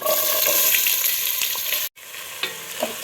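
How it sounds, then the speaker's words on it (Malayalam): Chopped onion hits hot oil already seasoned with cumin and cardamom, setting off a loud, steady sizzle that cuts out briefly and then resumes a little quieter, with a few small pops. "ഇനി നമ്മൾ സവാള കൊത്തി അരിഞ്ഞത് ഇടാം"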